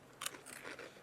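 Honey barbecue Fritos corn chips bitten once and then chewed close to the mic, a sharp single crunch followed by a few softer crackling chews, quiet overall.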